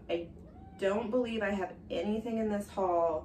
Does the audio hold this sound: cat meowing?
yes